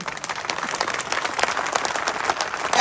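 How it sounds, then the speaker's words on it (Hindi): Dense, loud applause from a crowd at a political rally speech in Jhunjhunu, steady clapping that fills the whole moment without any speaking. "मैं चाहता हूं झुंझुनू के नाम की जोरदार तालियां होनी चाहिए एक बार"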